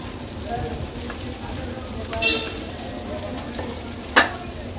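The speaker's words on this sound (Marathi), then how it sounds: "मीडियम फ्लेम वर ठेवून अगदी 1 मिनिटासाठीच आपण एक बाजू तळून घेणार आहोत।" Pieces of ghol fish roe fry in a pan over a medium flame, giving a steady, close crackling sizzle with a few sharper pops and a clink of a utensil toward the end.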